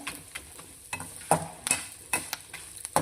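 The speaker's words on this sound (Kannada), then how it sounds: "ಇದನ್ನು ಮಿಕ್ಸ್ ಮಾಡಿ ಲೈಟಾಗಿ ಒಂದು 30 ಸೆಕೆಂಡ್ ಈ ರೀತಿ ಫ್ರೈ ಮಾಡಬೇಕಾಗುತ್ತೆ" Spices and grated coconut fry lightly in a pan for vangibath, giving a soft sizzle broken by irregular scrapes and taps of stirring.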